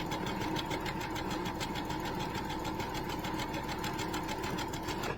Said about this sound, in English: I haven't used this sewing machine for quite some time